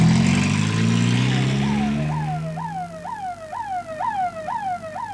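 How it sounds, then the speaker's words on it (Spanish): An ambulance siren wails through city streets, a rising and falling electronic yelp that starts over loud engine and traffic rumble, then turns to a rapid repeating whoop-whoop as the vehicle moves along. "Armó una ambulancia y sin llevar ningún paciente, paseó la sirena y el apuro por nada por toda la ciudad."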